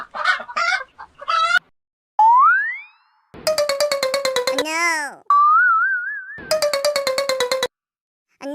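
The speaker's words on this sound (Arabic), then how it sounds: "دجاجة" Chicken sounds with a series of rapid, close, tonal clucks in bursts, mixed with whistling, boinging and sliding electronic effects in a children's animal-sounds sequence.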